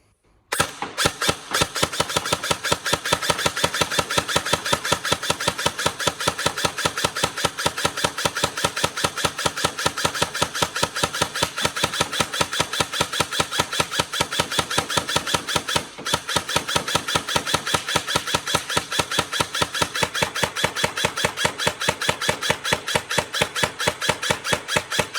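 A G&G CMF-16K airsoft electric gun fires continuously on full auto for about 25 seconds, a loud, fast, steady mechanical buzz of rapid shots with only a brief pause partway through and no talking.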